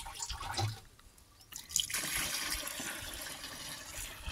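Jeevamrut liquid sprayed onto a cotton crop from a backpack pump, a faint trickling, splashing liquid with a louder, steady rushing spray from partway through, outdoors with no talk.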